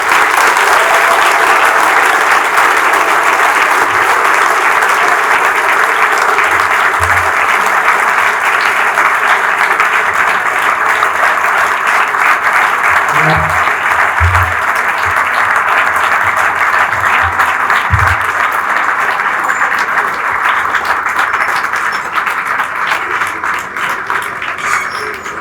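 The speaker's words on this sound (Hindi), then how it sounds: "जोरदार तालियां" Thunderous applause from an audience at a classical music program honouring a visiting singer-poet, a dense, sustained roar of clapping lasting the whole stretch, with a few low thumps midway and a slight fade near the end.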